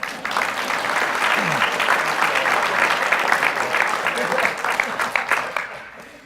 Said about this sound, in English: you can applaud for them, that's fine.